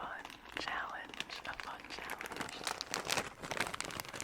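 Small jigsaw puzzle pieces crinkled inside a thin plastic bag, close and crisp, with irregular bursts of crackling rustle throughout, while a person whispers over the sound.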